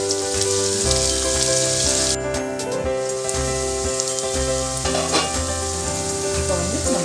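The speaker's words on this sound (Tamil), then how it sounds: "வெங்காயம் இன்னும் கொஞ்சம் வதங்கட்டும். நல்லா கோல்டன் ப்ரௌன்ல வரணும் வெங்காயம்." Onions and green chillies sautéing in a pan for a vermicelli chicken biryani give a loud, continuous sizzle with stirring scrapes, while steady background music plays underneath, no voices.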